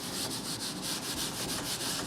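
An eraser or duster rubs earlier writing off a board, making a continuous close scrubbing sound in quick back-and-forth strokes.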